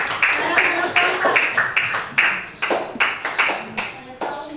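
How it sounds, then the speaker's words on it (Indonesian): Students clapping together in an Islamic cultural history class, a rhythmic series of sharp group claps in regular bursts, close and fairly loud, with no talking over them. "Iya, sekarang tepuk tangan."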